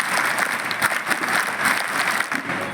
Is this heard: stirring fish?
no